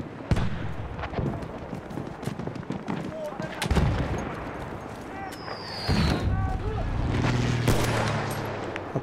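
Battlefield 1 video game gunfire: repeated sharp shots and bursts crack out at irregular intervals amid explosions and game noise, with someone talking over the action.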